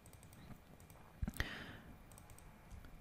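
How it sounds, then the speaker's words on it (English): A computer mouse gives a quick double click, two faint, close taps in rapid succession during 3D ring modeling in Rhino, against quiet room background. "Let's double click"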